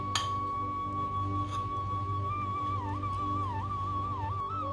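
A lid set over a dish of poha soaking in milk, a single sharp glassy clink near the start and a fainter one shortly after, followed by a long ringing tone over a low steady hum.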